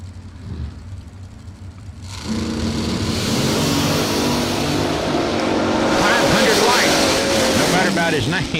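A bracket drag race car at the Jegs Super Bowl of Bracket Racing, its engine roaring loud and close as the driver pats the gas several times, under continuous commentary from an announcer.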